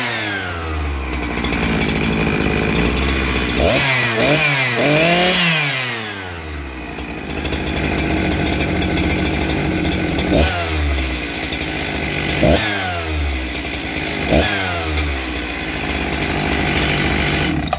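A Husqvarna 365 Special big bore chainsaw runs loud and close, idling with a buzzing rattle, then revving hard several times in sharp throttle bursts that rise and fall.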